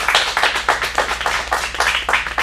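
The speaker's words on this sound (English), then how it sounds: "one more round of applause for Colton." Close, loud clapping from a small audience at a kids' acting showcase in Phoenix, with distinct individual hand claps in an uneven rhythm over a couple of seconds.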